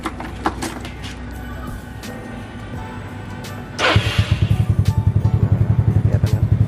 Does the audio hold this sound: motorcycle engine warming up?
yes